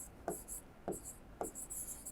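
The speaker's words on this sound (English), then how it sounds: "let me try to write it down for you" Chalk or marker writing on a board during a physics lecture: three short scratchy strokes at an even pace, close and clear over a quiet room.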